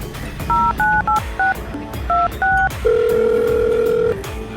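Telephone keypad tones beep in a quick series of paired dual-tone presses as a number is dialed, followed by a steady dial or ringback tone, all close and clear with no talking.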